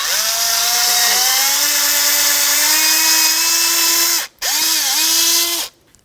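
Power drill grinding out a broken plastic clip piece on a 2007-2017 Jeep Patriot 2.4L front wheel area, a loud steady whine that dips briefly near the end, then resumes and stops, with no talk.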